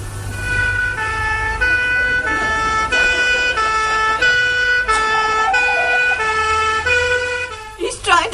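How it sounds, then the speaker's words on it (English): A police car siren wails loudly and up close, its two-tone pattern repeating steadily for several seconds over traffic rumble, ending with a brief clatter. "I'll send a police car round right away"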